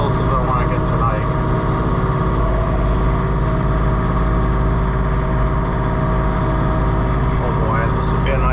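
A John Deere 3046R compact tractor runs steadily while blowing snow near a garage, a loud, close, continuous engine drone with a low hum. Someone talks over it.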